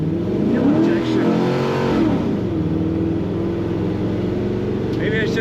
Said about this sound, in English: Maybe I shouldn't talk while hitting the throttle. Takes off like a rocket.